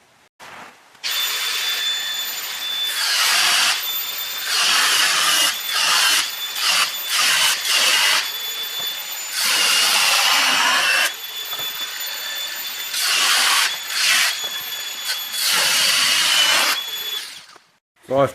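An angle grinder cuts a motorcycle fairing cowl on a Honda CX500, giving a loud close whining screech in long bursts with brief gaps and pitch changes as it bites the material.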